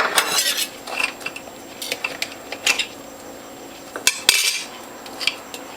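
Metal knife scraping and clinking against a juicer grid while it is cleaned, in a series of short bright scrapes and taps with a few louder clanks near the end, close up with no talking.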